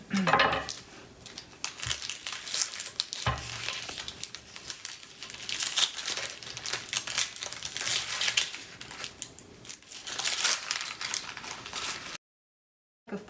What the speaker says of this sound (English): We're going to go ahead and cut our white onion.